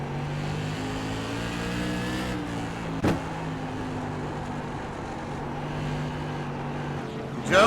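Tour modified race car engine at Oxford Plains racing on track, a steady loud drone with shifting engine pitch under track commentary, a brief sharp spike near the middle and a rising burst at the end.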